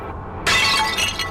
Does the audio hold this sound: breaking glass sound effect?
yes